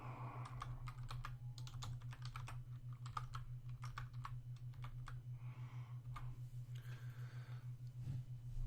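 Rapid keystrokes on a computer keyboard while entering text in Photoshop, quiet close clicks in irregular bursts over a constant low electrical hum.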